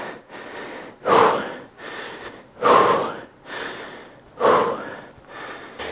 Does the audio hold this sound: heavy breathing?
yes